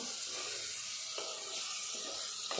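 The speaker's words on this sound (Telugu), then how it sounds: "ఈ మిర్చితో పాటు ఈ పప్పు కూడా కొద్దిసేపు వేగాలి వేగినప్పుడే మంచిగా ఉంటుంది" Moong dal and green chilies fry in oil in a pan with a steady, close, hissing sizzle, broken by a few faint stirring clicks, with no talk over it.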